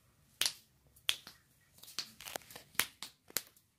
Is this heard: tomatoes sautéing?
no